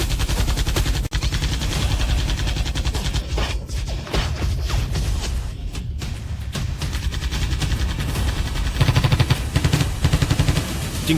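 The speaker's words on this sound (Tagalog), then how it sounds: "Gamitan mo siya ng Blue Fire Gatling gun na yan para malaman niya kung ano ang totoong lakas nitong mga bala" Blue Fire Gatling gun firing, a loud, relentless rapid stream of shots rattling on without pause for about eleven seconds, with a brief dip early on and sharper bursts near the end, no talking.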